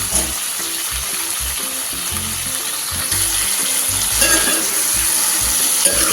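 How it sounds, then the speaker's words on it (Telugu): Vegetables for veg biryani cooking in oil in a pot, turned now and then, give a loud, steady, close sizzle with a soft clatter of stirring throughout. "చక్కగా ఇలా మగ్గించుకోవాలి ఆయిల్లో"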